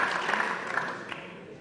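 Applause in a council meeting hall after a member is sworn in, a steady spread of clapping across the room lasting under two seconds, moderately loud and fairly close.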